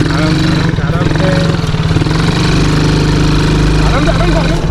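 ATV quad bike engine running on a desert ride at Sam near Jaisalmer, a loud close chugging idle with a steady pulsing rhythm throughout, with people talking faintly over it.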